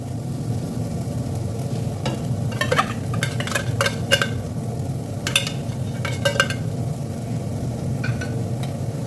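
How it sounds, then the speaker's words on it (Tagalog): Canned tuna packed in olive oil is stirred into a pot of Arabic-style lugaw, giving a steady low bubbling simmer with occasional scraping clinks of a spoon against the pot, no talking. "At ilagay natin ang tuna."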